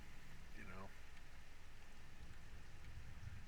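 Steady rain in Conan Exiles hisses as a constant wash of falling drops, soft and unbroken throughout, with a brief voice in the background.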